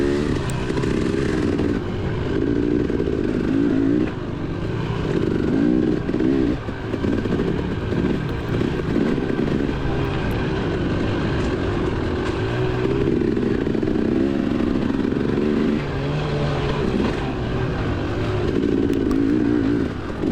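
Dirt bike engine racing in a Vet C motocross round at The Holler, Clay City, Kentucky, on a rooty off-camber track: a steady, loud, close engine drone rising and falling with throttle, no pauses throughout.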